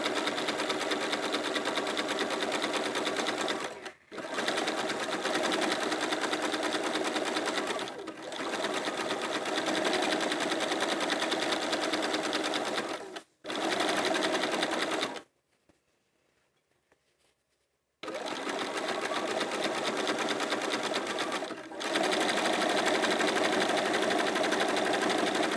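A sewing machine stitches a fabric bag in steady, loud runs of continuous whirring, broken by short pauses and one longer silence before stitching resumes, with no talk.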